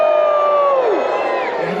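A crowd at a Dickens holiday festival in Fayetteville, North Carolina bursts into loud whooping and cheering, a high yell sweeping down over a dense wash of voices.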